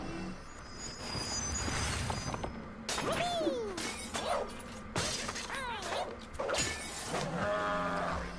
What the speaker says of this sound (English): Sounds like glass.